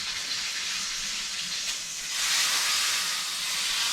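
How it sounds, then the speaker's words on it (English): A thick tomahawk steak searing with its fat rendering makes a steady, close hiss that swells louder halfway through and keeps sizzling evenly until it ends. "What we're doing right now is we're rendering the fat."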